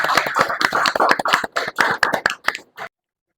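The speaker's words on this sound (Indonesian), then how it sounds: "Tepuk tangan." A classroom of students applauds in a burst of quick, overlapping hand claps lasting under three seconds, loud and close, then stopping abruptly into silence.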